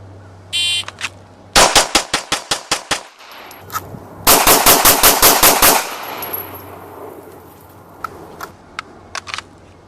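Pistol shots in a timed shooting drill, fired in two rapid strings of about eight rounds each, sharp and loud, with fainter scattered shots and quiet gaps in between.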